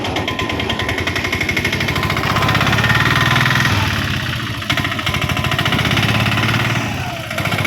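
A vehicle engine runs steadily and loudly for the whole stretch, with a low, throbbing pulse and no clear pause, heard close by.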